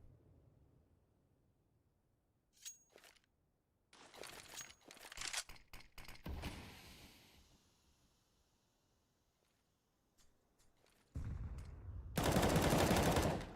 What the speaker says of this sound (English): Lovely set of shooting from Volta there